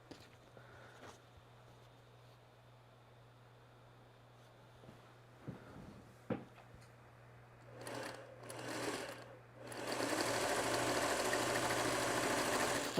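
A sewing machine used for quilting with mini-charm fabric squares starts with faint scattered clicks and handling, then runs in short bursts before settling into a steady, loud, continuous whirring stitch near the microphone.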